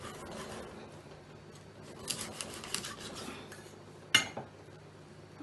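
A fish is cut in two on a board, soft rasping knife strokes over faint room noise, ending in one sharp chop.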